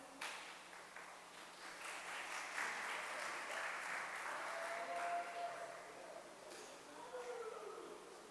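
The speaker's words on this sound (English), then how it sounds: "Can you applause that guy, please?" Applause from a classroom of students at a public school in El Salvador, a sustained burst of many hands clapping for about eight seconds, steady and fairly loud with a few whistles or cheers mixed in.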